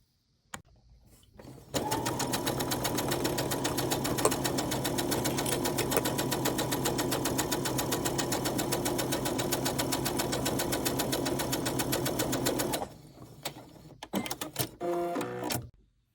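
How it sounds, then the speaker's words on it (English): A sewing machine runs steadily for about eleven seconds, stitching a straight seam on a beginner Christmas tree ornament project, with brief quiet handling before and after. "take this over to the machine and sew a straight line down as well"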